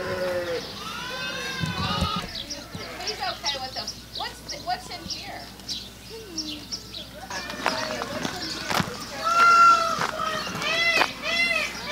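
A goat bleats repeatedly in loud, wavering calls, close by, while people talk over and between the bleats.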